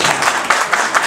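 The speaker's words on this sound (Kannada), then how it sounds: "ಚಪ್ಪಾಳೆ" A crowd at a film trailer launch applauds, and broad, steady clapping fills the moment with gentle swells. No voices rise above it.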